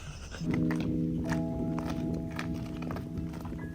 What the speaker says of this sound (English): You guys sound like crunchy boys when you're walking.